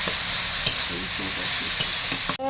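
Chopped onions sizzle steadily in hot oil in a pan while being stirred with salt, with scraping and clinking of the spoon against the pan throughout, for a green jackfruit curry.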